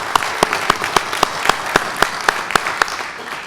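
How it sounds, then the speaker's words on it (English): Audience applause at an ARIN public policy meeting opening session, a room of attendees clapping steadily with a few sharp, close claps standing out above the wash. "Big round of applause."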